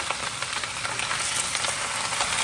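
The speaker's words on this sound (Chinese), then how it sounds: "下青菜，哇，呲呲的响啊！" Drained green vegetables sizzle loudly and continuously in a non-stick pan over high heat with oil, dried chili and garlic, a dense close hiss with faint stirring and no voices.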